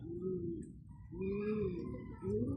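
Soft, low cooing from a pigeon repeats in three rounded phrases, close by and fairly quiet, with faint chirps in the background.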